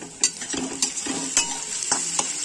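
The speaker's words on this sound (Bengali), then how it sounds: "খুব ভালো করে একটু ভেজে নেবে পেঁয়াজ আর আলু।" Onion and potato frying in oil in a pan for a tilapia piyaji fish dish, with a steady soft sizzle broken by several sharp scrapes and clinks as a spatula stirs them, close and moderately loud.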